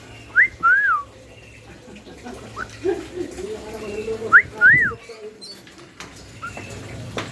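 Short rising-and-falling whistles come in two pairs, close and clear, with quiet voices and faint rustling between them.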